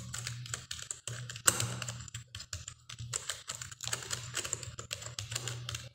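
Computer keyboard typing, quick irregular clusters of soft key taps with brief pauses, close and fairly quiet over a low steady hum.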